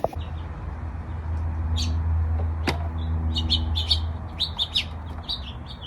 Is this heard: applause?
no